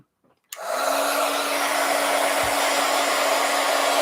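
A hair dryer switches on after a brief quiet moment and runs with a steady loud whir and hum while drying a paper journal page, alone without speech.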